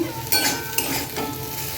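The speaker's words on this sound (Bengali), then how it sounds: "আর এদিকে উচ্চ ভাজা করছি" Bitter gourd sizzles in hot oil in a pan, with a few louder scrapes of a spatula stirring it; no talking.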